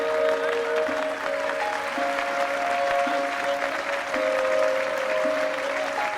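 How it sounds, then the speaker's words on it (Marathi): A crowd at an award ceremony for a relief sculpture art competition gives a sustained round of steady applause, with a soft musical tone held underneath. "टाळ्या."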